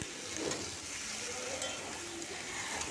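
Pumpkin stalks with salt and turmeric sizzle softly in a pan while being stirred, a faint, even frying hiss heard up close with no talk.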